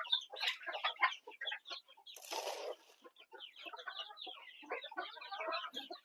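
Several hens cluck and chatter continuously nearby, including a large hen laying an egg, the calls overlapping in quick uneven bursts with a brief rustle partway through.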